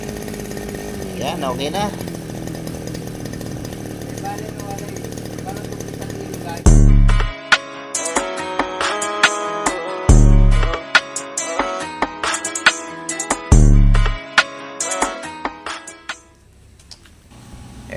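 A repaired petrol grass cutter engine, first idling at a steady drone, then revving hard in repeated loud bursts with pauses between, while someone speaks briefly nearby.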